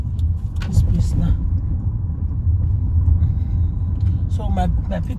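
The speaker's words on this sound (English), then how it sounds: "There's many traffic here." Road traffic passing near a church, a steady close rumble of cars and engines with rising and fading passes, while people talk over the noise.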